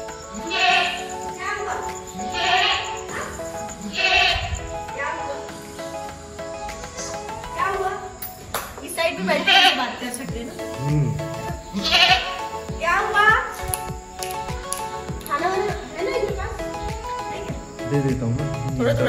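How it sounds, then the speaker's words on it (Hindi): Goats bleat again and again while they are fed on a rainy day, with crickets chirping steadily behind them. People talk in Hindi over the loud, close animal calls. "तो फ्रेंड्स बाबू खाना दे रहे हैं अभी बकरियों को"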